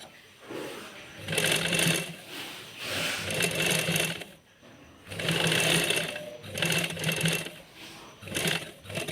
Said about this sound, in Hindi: अब मैं इस तरह से ऐसे लेस जो है वो रखूँगी, इसके ऊपर ऐसे सिलाई लगा दूँगी।